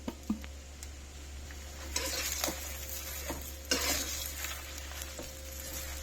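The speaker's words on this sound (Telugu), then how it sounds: "కరివేపాకు, మునగాకు, రెండు కలిపి వేయించేసుకోవడం అండి." Curry leaves and drumstick leaves frying together in a pan, with a steady sizzle and crackle that swells in bursts as the leaves are stirred, along with a few soft scrapes, close and continuous.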